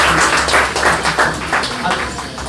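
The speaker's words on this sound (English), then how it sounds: "One more round of applause." An audience at a regulatory affairs consulting talk claps in a loose round of applause, individual hand claps audible as uneven taps, moderately loud and fading slightly toward the end.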